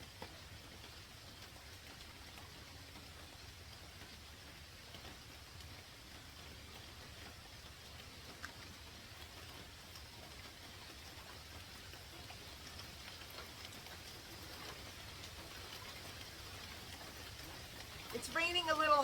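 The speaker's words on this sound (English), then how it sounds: "It's raining a little harder now and it feels so good." Light rain falls steadily outdoors on a hot day, a soft continuous hiss with faint scattered drops that thickens slightly toward the end.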